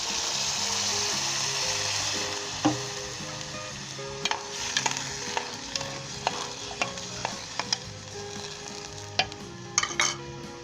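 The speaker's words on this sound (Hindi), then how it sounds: "अब हम इसके अंदर हाफ़ गिलास से 1 गिलास पानी डाल देंगे।" Potato and eggplant curry sizzles and fries steadily in a pan after water is poured in, with a dense continuous hiss broken by sharp pops and spatters throughout, close and fairly loud.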